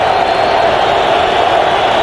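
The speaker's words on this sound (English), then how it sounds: "The crowd getting into it now" Loud, steady roar of a football stadium crowd cheering at a Division I-AA semifinal at Montana, a dense wall of noise held throughout.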